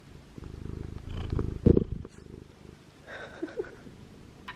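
A cat purrs loudly while lying on a lap, a close rhythmic rumbling purr with a brief louder burst of rustling partway through.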